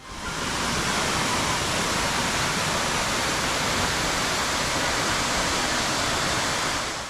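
Horsetail Falls along the historic Columbia River Highway in the Columbia River Gorge gives a loud, constant roar of falling water, a dense, unbroken rush with no voices.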